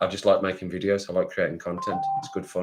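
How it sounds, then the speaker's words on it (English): A phone gives off a steady electronic beeping tone for under a second near the end, mid-level and partly under a man's continuous chatting. "That's my phone, boobity booping."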